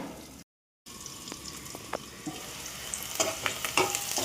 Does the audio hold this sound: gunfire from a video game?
no